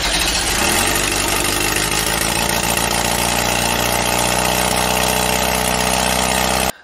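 A freshly built Volkswagen 1776 engine fitted with dual Type-3 carburetors runs loud and close with a steady, throbbing idle, then cuts off abruptly at the very end.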